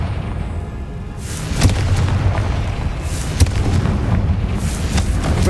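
Confringo fire spell from Hogwarts Legacy, a loud close explosive boom that swells into a long rolling roar with crackling bursts and a second sharp hit partway through, no talking.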